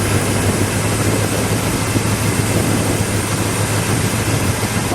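A 1969 Ford Torino Talladega with a 428 Cobra Jet V8 idles steadily, a loud, even low rumble with constant broadband roar and no revving, close by and without talk.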